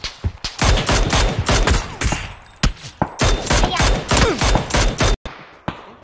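Rapid bursts of gunfire from a video game shooter crackle loudly and almost continuously, with brief pauses between volleys, while a player shouts briefly over the shooting.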